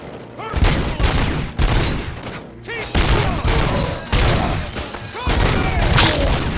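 Rapid bursts of gunfire in Robocop: Rogue City, with repeated loud volleys and booms close up in an irregular rhythm and a voice briefly heard between shots.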